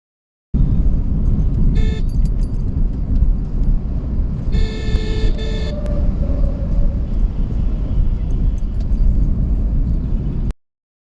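A car pulls away through busy Durgapur–Kolkata city traffic once the signal clears, a steady loud engine and road rumble throughout with brief horn toots from surrounding vehicles.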